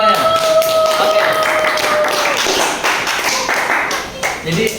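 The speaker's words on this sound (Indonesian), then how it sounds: "Tepuk tangan semuanya." A high school classroom in Jakarta breaks into applause, with dense clapping continuing for several seconds over chatter and voices, close and fairly loud.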